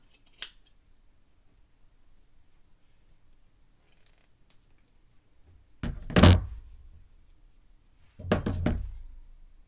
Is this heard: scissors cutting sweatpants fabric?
yes